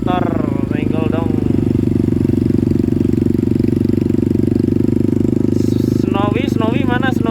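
A motorcycle engine drones steadily and loudly through a ride from Semarang to Bali, a constant hum that fills the stretch while a voice speaks briefly at the start and again near the end.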